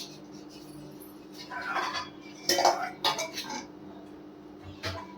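Metal cookware clatters and clinks a few times as a small kadhai is picked up and set down for tempering, with light kitchen noise in between.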